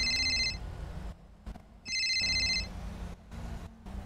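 A mobile phone ringtone from an accidental call-back plays as two short electronic ringing bursts over a noisy, rumbling background.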